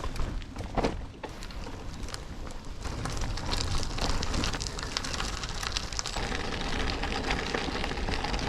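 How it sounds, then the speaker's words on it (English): Bicycle tyres roll over a gravel path beside a motorway, making a continuous close crunching, crackling rush with steady loudness and no voices. "The only thing that's spoiling this is the noise of the tyres on the gravel."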